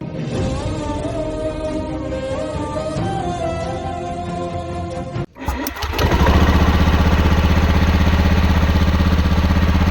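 In a cartoon, a motor vehicle's engine starts after a musical passage ends, then runs with a loud, steady low rumble through the rest of the clip.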